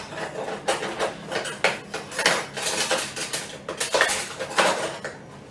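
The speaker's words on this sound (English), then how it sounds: "Once we've found somewhere for the spoon, get another plate for that." A fork and spoon clatter against plates while a birthday cake is being made, a run of bright clinks and knocks close by, no speech.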